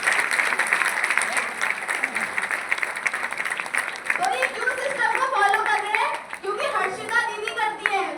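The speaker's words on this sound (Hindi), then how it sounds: "ये देखो तालियां होनी चाहिए जोरदार।" Lively audience clapping at a Modicare business gathering, strong at first and then thinning as voices and children's chatter rise over the fading applause.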